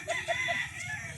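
A rooster crows briefly and faintly at a distance, a short, thin call heard on its own against a quiet outdoor background.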